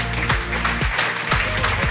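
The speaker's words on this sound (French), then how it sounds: "On peut les applaudir." An audience at the Gala Risk IT 2018 awards ceremony claps loudly and continuously over a low, droning musical backing, with sharp hand-strike bursts standing out from the steady crowd noise.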